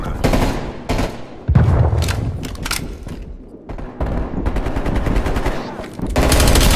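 Rapid bursts of automatic gunfire from an enemy in a shooter video game, fired repeatedly at a downed player's corpse. The shots are loud, dense and continuous, with short pauses between volleys, and no speech is heard.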